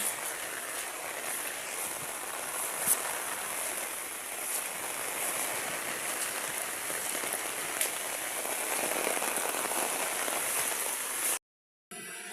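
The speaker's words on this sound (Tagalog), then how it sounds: "Ayan, medyo hangin po siya ng konti may hangin yung ulan, kasamang hangin na medyo, ano, medyo malakas-lakas talaga" Steady heavy rain pours down with a dense hiss and gusty wind, continuous and close, cutting off abruptly near the end.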